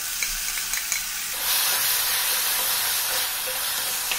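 Two large chopped tomatoes drop into a pan of okra curry, and the steady frying sizzle jumps louder and hissier as they hit, continuing close and strong with light stirring, no voices.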